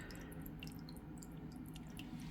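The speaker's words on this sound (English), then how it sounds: "like most filters, this will naturally get a little bit less noisy as it goes" A HYGGER aquarium filter runs with a low steady hum while moving water drips and splashes in frequent small plinks, close and fairly quiet.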